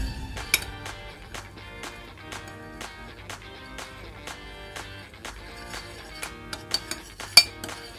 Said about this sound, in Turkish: Bunu iyice bir karıştıralım.